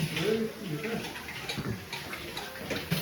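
At a village tank that once held milk and now stores water, people fill containers. Running, splashing water sounds faintly under nearby voices talking.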